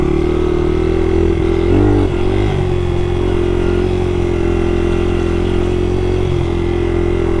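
A Honda XR70 or XR80 dirt bike engine drones loud and close at a steady idle-to-mid rev, with a brief blip of throttle near the two-second mark, alone and without speech.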